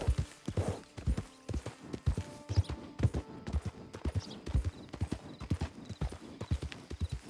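A horse galloping hard in Red Dead Online, a fast, even rhythm of heavy hoofbeats with the rider's gear jingling, loud and close.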